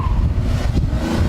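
2014 sports sedan, an Infiniti Q50S or Lexus IS350 F Sport, launching hard and accelerating toward redline, with a dense engine roar mixed with heavy wind buffeting throughout.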